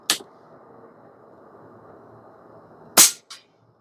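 A Stoeger XM1 Bullshark .22 PCP airgun firing outdoors, two sharp crisp cracks about three seconds apart, each with a brief faint echo, otherwise near silence.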